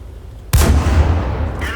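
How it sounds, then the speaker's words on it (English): A World of Tanks tank gun fires one loud, close shot that booms abruptly out of low background noise. A long rumbling tail follows and fades slowly, with a faint metallic clink near the end. "Ooh, those gun sounds."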